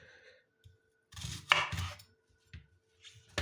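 Onion being chopped finely with a knife in a home kitchen, a few soft separate cuts and brief scraping bursts close by, no voices.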